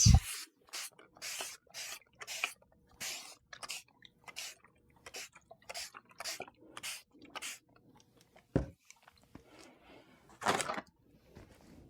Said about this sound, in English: let's mist this again to release it